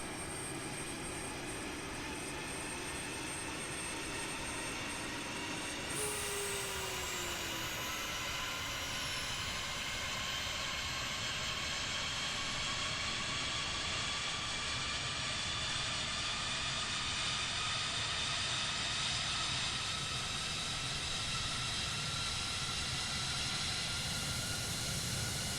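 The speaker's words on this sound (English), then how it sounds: "we're now going to start the engine up" An F-16 Falcon jet engine in Microsoft Flight Simulator spools up with a steady roar and rising whine, layered tones climbing gradually over a continuous hiss.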